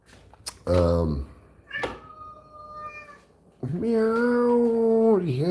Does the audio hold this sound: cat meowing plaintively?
yes